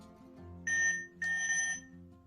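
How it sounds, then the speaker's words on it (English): An electronic device beeps after its red button is held down, two bright tonal beeps in a row over a faint background hum. "press and hold the red button until you hear a sound or a beep"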